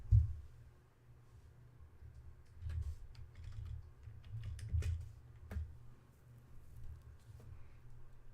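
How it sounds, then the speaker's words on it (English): Soft, scattered clicks of typing on a computer keyboard, faint and irregular over a low background hum. "Let me type in Zoom."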